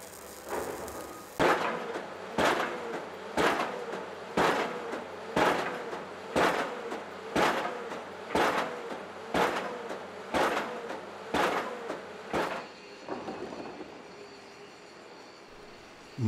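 A pile driver hammering steel pipes into the ground at a railway station construction site: a steady series of about eleven loud, evenly spaced metallic impacts roughly one second apart, then the rhythm stops and leaves a low machinery hum.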